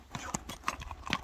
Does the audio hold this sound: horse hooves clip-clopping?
yes